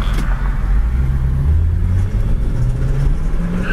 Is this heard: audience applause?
no